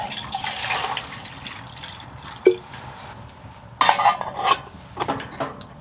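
Water being poured into a kettle on a wood-burning tent stove during winter hot-tent camping, heard as close metallic clinks and splashy trickles in short bursts with quiet gaps between.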